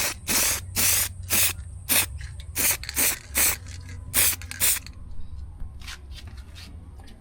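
Short bursts of aerosol spray paint coat screw heads black, about a dozen loud, close hissing puffs in an uneven rhythm with brief pauses between them.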